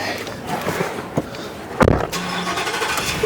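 A 2021 Ford F-150's V8 engine cranks and catches around the middle, with a sharp burst of noise, then settles into a steady idle rumble.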